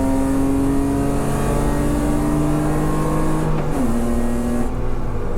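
Superberline race car engines at Dijon drone loudly and steadily, their pitch holding and then shifting as the cars rev and pass, with no talk.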